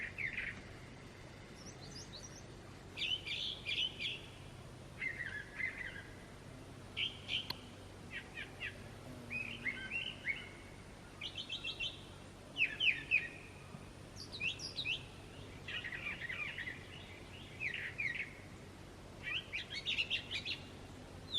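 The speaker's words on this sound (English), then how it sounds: "I just want you to take notice of this bird." A bird at the top of a tree in spring gives short chirping calls in varied bursts, repeating every second or two over a quiet outdoor background, fairly faint and with no talk.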